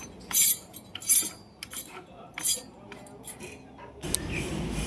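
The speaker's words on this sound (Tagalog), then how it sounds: "Yung cooling fan niya ay sumasagi na sa kanyang alternator housing." A car alternator, taken off the engine, has its internal cooling fan rubbing against the alternator housing, heard as close, intermittent metallic clinks and scrapes followed by a brief rougher rush of noise.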